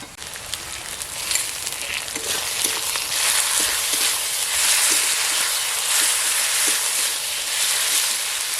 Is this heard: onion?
yes